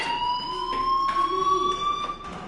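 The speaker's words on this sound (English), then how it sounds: "Hey, do you hear that fire alarm? That means you should be outside." School fire alarm in the video game Life Is Strange, a steady electronic tone ringing continuously and loudly, with a few faint bursts of background noise behind it.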